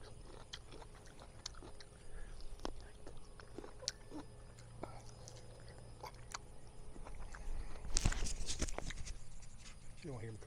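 A dwarf tomato is chewed up close, with soft, wet crunching bites in an irregular rhythm and a louder burst of chomping near the end.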